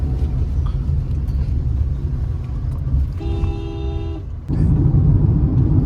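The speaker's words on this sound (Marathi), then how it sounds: "इकडं ट्रॅफिक झालेलं आहे" Road traffic surrounds the listener, a loud continuous engine rumble from nearby vehicles, with a horn sounding for about a second midway before the rumble swells again.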